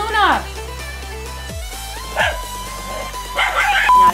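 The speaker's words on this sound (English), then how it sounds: "She really is kind of a perfect dog." A dog gives a few short yips and whining barks, close and fairly loud, with gaps between them and a faint voice in the background.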